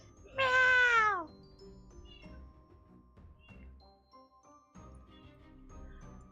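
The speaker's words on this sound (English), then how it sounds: "Put your cat on the mic." A house cat gives one loud, drawn-out meow close to a microphone, followed by quiet background rustling and faint jingling.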